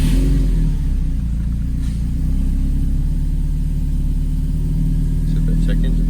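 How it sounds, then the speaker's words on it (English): A 2006 Subaru STI engine runs on its first start after break-in, a loud, close, steady idle rumble throughout, with voices talking over it. "let's go ahead and start right up"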